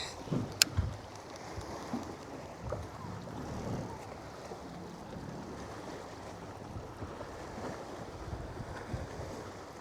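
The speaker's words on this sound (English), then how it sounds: "It's just really windy." Strong wind on a lake during spring bass fishing, gusting roar and buffeting against the microphone with water lapping around a boat, a steady blustery wash throughout.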